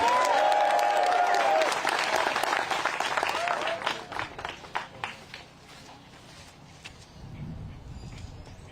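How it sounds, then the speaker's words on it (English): Spectators at a disc golf tee applaud at the 2023 OTB Open, a burst of clapping that is loud at first and then thins into scattered claps and fades, with faint background voices. "Thunderous applause for Calvin Heimburg as he steps up to the tee."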